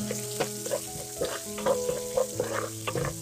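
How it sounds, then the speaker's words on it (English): Butter chicken ingredients sizzle steadily in a hot pan while being stirred and mixed. Occasional scraping and stirring knocks sound close up. No one speaks. "and we're going to mix it."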